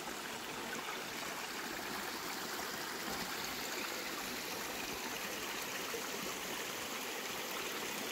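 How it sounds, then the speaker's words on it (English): A small mountain stream at Wägitalersee, Switzerland flows in a steady, close, broadband rush of water, with only a brief murmur from a voice. "Here we're at a little mountain stream."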